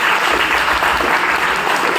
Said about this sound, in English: Can we have a big round of applause for all our professors?